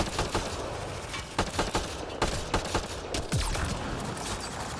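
Gunfire in the video game Mass Effect Andromeda: several sharp bursts and single shots crack at irregular intervals over a busy background, fairly loud with no speech.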